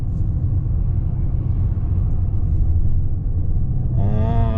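A Toyota Harrier with a 2-litre naturally aspirated petrol engine pulls away from a stop, heard from inside as a steady low cabin rumble, with a rising engine tone near the end.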